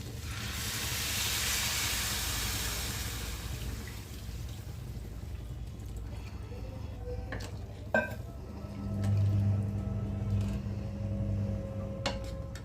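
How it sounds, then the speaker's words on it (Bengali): Water poured into a hot pan of fried spices, gobindobhog rice and lentils for khichuri sets off a loud, steady steaming hiss that gradually fades into quieter bubbling, followed by a few sharp utensil clinks. "খুব ভালোভাবে সব মশলা চাল ডাল ভাজাও হয়ে গেছে। এবার জল দিয়ে দিচ্ছি।"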